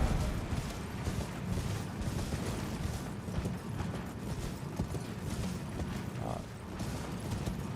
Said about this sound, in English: I do really enjoy the horse combat in this